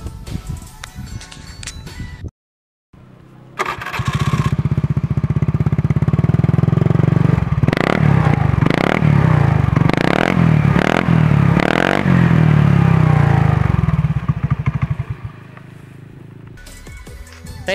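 A modified Honda Beat Fi scooter engine runs loud and close after a brief silence, idling steadily and then revving in several quick bursts before settling back down.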